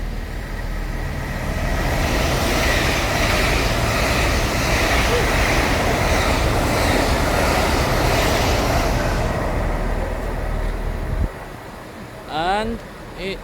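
A Great Western Railway train, Carmarthen to London Paddington unit 800-019, races through Slough station with a loud, sustained roar and rushing wheel noise that cuts off abruptly, followed by a brief rising whine and a voice.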